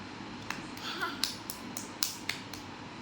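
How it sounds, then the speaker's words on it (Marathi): Hands clap in a rapid, irregular series of sharp, light slaps, about eight in three seconds, fairly quiet in a small room with faint background murmur. "कशासाठी टाळ्या वाजवते?"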